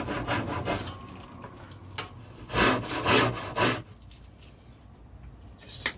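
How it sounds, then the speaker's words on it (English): A thin-bladed Japanese pull saw cuts through wood while building a replica K6 telephone box, giving close rasping strokes with a brief run of quicker, louder strokes midway, no talk. "Is one of these Japanese saws that cut on the pull stroke, and they're such a thin blade."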